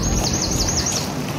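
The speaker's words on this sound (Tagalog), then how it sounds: "Birds chirping." Small birds chirp in a quick repeating series of high tweets in a park, carried over a steady outdoor background hum, fairly close and clear.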